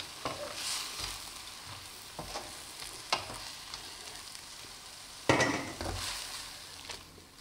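Steady sizzling of mustard greens and garlic frying in a pan, with scraping, clattering stirs of a utensil at irregular intervals, one louder scrape near the end.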